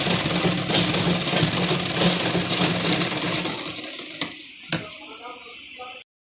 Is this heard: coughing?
no